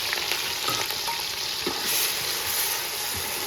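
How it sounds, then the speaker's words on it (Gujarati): Chopped onion and ginger frying in hot oil in a home kitchen, a bright continuous sizzle with occasional stirring clatter, close and fairly loud, no talk. "તેલ ગરમ થઈ ગયું એમાં નાખી દઈએ ડુંગળી"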